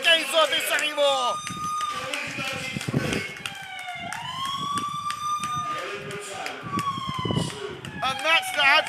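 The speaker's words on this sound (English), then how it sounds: "You hear the sirens." A wailing siren rises and falls throughout, loud and continuous, under an excited voice talking quickly over it during live commentary of a football match between Coventry United and Desborough Town.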